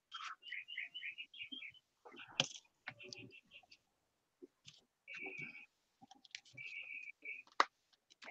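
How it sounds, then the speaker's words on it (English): Birds chirp and trill in short, bright phrases and whistled notes against quiet surroundings, mixed with soft clicks and light handling noises nearby. "Oh, I love the sound of the birds. They sound so pretty."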